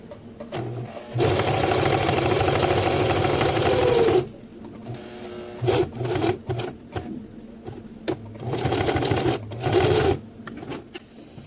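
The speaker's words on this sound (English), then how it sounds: "I just want to get back to the middle and sew one more line right up the center here" A sewing machine stitches a line up the center of MOLLE webbing straps, running in loud, fast bursts: one long run of about three seconds, then several shorter runs separated by pauses.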